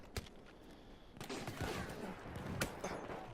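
Scattered gunfire in the Battlefield 1 video game, with a few sharp shots cracking through a steady background of distant battle noise, some shots louder and closer than others.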